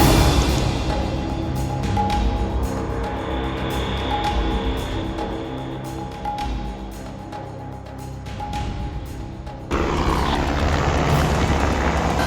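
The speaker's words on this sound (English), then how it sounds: "Our Tiger helicopters are starting their attack on the airfield defenses." Tiger attack helicopters in the video game The Rim of Heaven roar in a loud, continuous rotor and engine drone as they attack airfield defenses, with an abrupt shift in the engine texture near the end.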